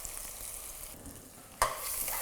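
Onion frying and stirring in a pressure cooker with cinnamon and whole garlic cloves, with a sudden loud sizzle burst near the end as the onion hits hot oil, then continuing steady hiss.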